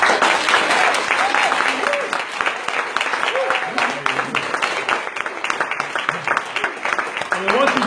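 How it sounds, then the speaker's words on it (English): An audience at a transformational business meeting in Maynooth gives itself a big round of applause, dense sustained clapping from many hands throughout, with voices and cheers mixed in. "Give yourselves a huge round of applause"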